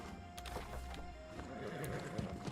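A horse mount gallops in the video game New World, its hoofbeats steady and close, with a whinny mixed into the busy in-game soundscape.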